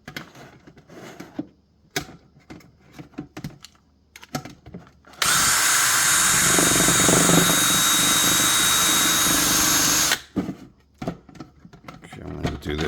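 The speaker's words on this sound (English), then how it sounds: "drill the holes the rest of the way through" A power drill drilling holes through a radio node enclosure runs loudly for about five seconds, bracketed by quieter clicking and handling noises before and after.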